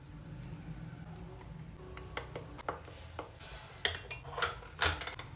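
Metal idli trays and dishes clatter and clink in a series of sharp, close knocks, growing louder toward the end over a low background hum.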